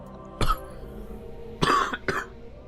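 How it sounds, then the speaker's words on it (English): A sick person playing Destiny on Xbox One coughs three times close by: one cough, then after a pause two more in quick succession, over a low steady background hum. "I'm trying to keep the coughing down minimum."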